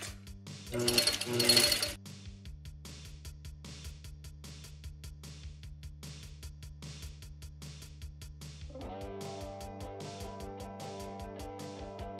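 A sewing machine runs a quarter-inch seam on right-sided fabric pieces for a dad hat, a steady fast mechanical chatter that starts after a short burst of louder noise and continues evenly, close and clear, with a brief shift in tone near the end.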